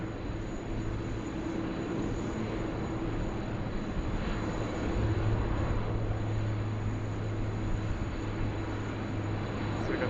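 A Qantas airliner bound for Bangkok takes off from Sydney Airport, a loud, steady jet roar with a low engine drone that holds for the full stretch and swells slightly midway, with no voices over it.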